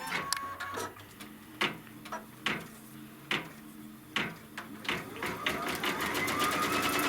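A computerized embroidery machine stitches a placement line with a steady rapid needle chatter, broken by rhythmic louder thumps, running continuously at close range.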